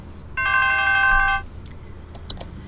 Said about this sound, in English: Just wait for the next phone call.